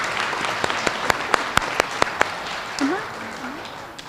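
Applause at an elementary school assembly for the kindergarten students of the month: a run of distinct, loud claps close by over scattered crowd clapping, then a voice starts speaking.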